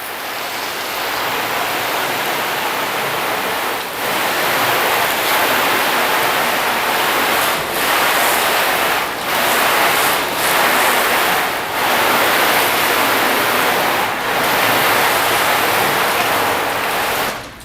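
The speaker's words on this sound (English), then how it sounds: "I'm just gonna douse down the whole panel" A water hose sprayer douses a car panel coated with ceramic wax, producing a steady, loud, close hiss of spraying water with a few brief dips as the stream shifts.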